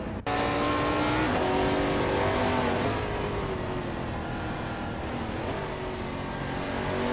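Race cars, led by a 2008 Jaguar XKR GT3, launch from the grid at Dijon-Prenois short track in a racing video game, with loud sustained engine roar and gear-shift pitch drops continuing steadily without voices.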